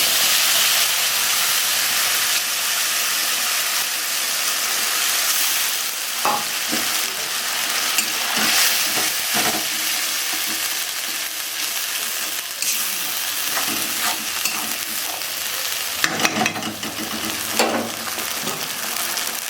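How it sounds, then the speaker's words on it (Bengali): Bay leaf and spice paste sizzle and fry steadily in hot oil, a dense continuous crackle close by with occasional louder pops and stirring clatters, no voices. "তো আমি মশলাগুলো আগে তেজপাতা দিয়ে দিচ্ছি, তারপরে মশলাগুলো দিয়ে দিচ্ছি।"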